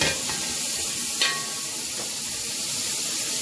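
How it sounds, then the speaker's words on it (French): Leek, onion and garlic sizzling in a little oil in a pan for a bushmeat roast, a steady loud hiss with a few brief stirring clicks, no voices. "on va rajouter poireau, oignon, l'ail. Donc, vous les faites revenir progressivement."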